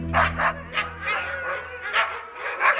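A team of Alaskan husky sled dogs barks and yips in a cold polar setting. The barks come in a steady, overlapping series, loud and close, over a low constant hum.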